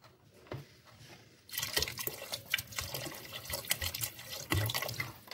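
Water splashes and trickles steadily into a pot of chicken vegetable soup, starting faintly and turning into a continuous pour with small splashes throughout.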